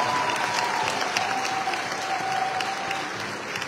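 Applause for the Soumaya ballet group at a gathering of the diaspora in Belgium, a full, even crowd clapping at moderate volume that tapers slightly near the end.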